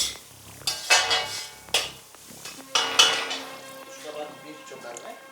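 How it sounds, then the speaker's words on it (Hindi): Raw chopped carrots are stir-fried in a pan with other vegetables, heard as bursts of loud metallic scraping and clinking from the stirring spoon over a faint background sizzle. "1 से 2 मिनट गाजर को भून लेना है सभी के साथ"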